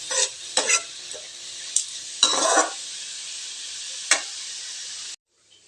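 Onions and curry leaves fry in a pan with a steady hiss, broken by several sharp spatula scrapes and bursts of crackle, then the sound cuts to near silence.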